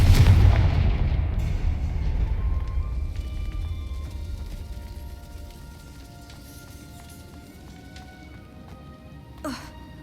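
A Confringo blasting spell in Hogwarts Legacy detonates with a loud, booming explosion up front, its rumble slowly fading over several seconds beneath soft ambient game music, with a faint extra whoosh near the end.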